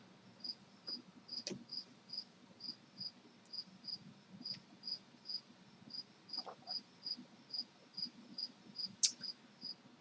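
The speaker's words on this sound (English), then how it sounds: "we have one in our bedroom right now," A cricket chirps indoors in a bedroom, a steady, evenly spaced series of thin, high chirps, soft but continuous over a low background hum.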